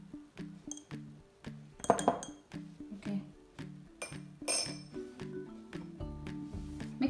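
Red food coloring stirred in a glass of water for a walking-water science experiment, a spoon clinking and tinkling against the glass in repeated light taps, close and clear, with a faint background tune.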